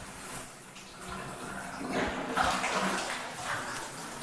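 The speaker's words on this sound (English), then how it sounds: "So I'm going to go back, turn off the water." Tap water runs steadily into a bathtub in a bathroom with newer tiles, a soft continuous wash of splashing at low level with no voices over it.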